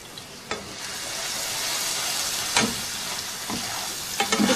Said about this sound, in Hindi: अब इसी तेल में एक प्याली प्याज का पेस्ट शामिल कर देंगे।